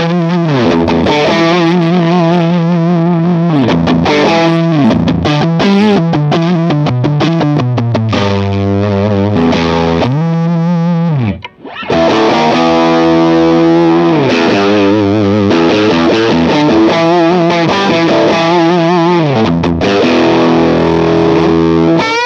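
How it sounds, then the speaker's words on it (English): An electric guitar plays through a Line 6 Helix AC30 amp model with gain, giving loud, distorted chords and riffs that ring continuously, broken only by a brief gap midway. "So you can start to hear the tubes kind of crying out in pain"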